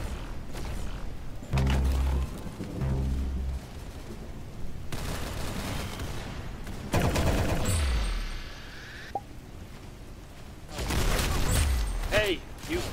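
Bursts of gunfire ring out across a shooting scene, several loud shots spaced through the clip with voices talking between and over them.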